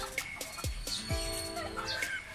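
Backyard chickens, two young stags and two hens, cluck and call close by in short overlapping bursts against a steady background hum.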